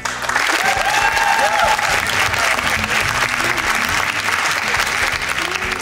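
An audience at a children's stand-up comedy show bursts into loud, sustained applause, a thick wash of clapping hands lasting several seconds with a few faint voices mixed in.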